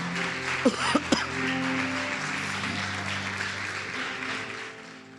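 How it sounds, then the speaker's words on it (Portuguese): A church congregation claps during an evening worship service, a steady broadband wash of applause that holds throughout with a faint tonal hum beneath and a few sharper bursts early on. "Você pode aplaudir ao Senhor Jesus?"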